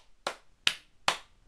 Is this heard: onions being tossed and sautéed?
no